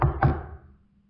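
Two hollow knocks land about a quarter second apart, close and fairly loud, then ring away into the quiet of a haunted hotel room during a paranormal investigation.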